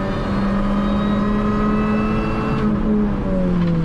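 Budget Mini Cooper race car accelerating hard on the Oulton Park circuit, its engine note rising in a continuous loud in-car drone, with a brief gear-change dip and the pitch climbing again.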